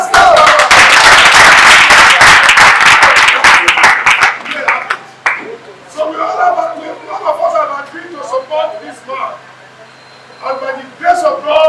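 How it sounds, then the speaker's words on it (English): An audience at a political gathering of a coalition initiative bursts into loud, dense clapping for several seconds, then fades as a speaker talks over the crowd. "Let's clap."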